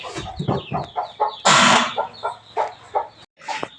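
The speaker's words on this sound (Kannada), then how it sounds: "ನಮ್ಮ ಕೋಳಿ ಏನು ಮಾಡ್ತಿದೆ ಅಂತ ನೋಡೋಣ ಮರಿ ಕೋಳಿ" A hen with a brood of chicks, mostly white and one black, clucks in a short run of close, loud calls at a village farm, with a burst of fluttering in the middle and no talk over it.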